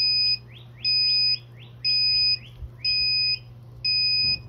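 A Grainfather brewing controller sounds its alert at the end of the mash out, five evenly spaced loud electronic beep bursts, each a rapid chirping trill over a low hum, with no one talking.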